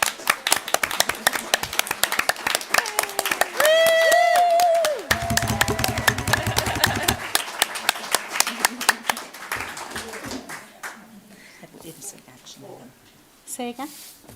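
A roomful of people at a school district board of trustees meeting clap in a dense, sustained round of applause that tapers off toward the end, with a brief whoop or cheer near the start and voices murmuring underneath.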